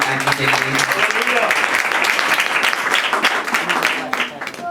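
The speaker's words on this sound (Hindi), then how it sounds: "जोरदार तालियां हैं।" A church congregation claps loudly during a Hindi/Urdu sermon on the Book of Matthew, a sustained burst of applause with voices mixed in underneath.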